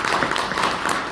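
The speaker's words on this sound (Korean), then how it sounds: "힘차게 뜨거운 박수 응원 좀 해주시기 바랍니다" Audience applause at a mayoral by-election candidates' debate in Asan, a steady, dense wash of clapping that fills the whole moment with no voices standing out.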